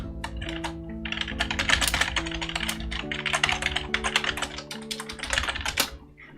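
Rapid, continuous typing on a computer keyboard, a dense patter of close, crisp key clicks running steadily for several seconds before easing off at the end.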